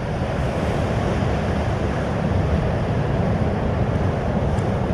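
Ocean surf rolls on at sea in rough conditions for extreme boating, a dense steady roar of waves mixed with wind buffeting the microphone, with no talk.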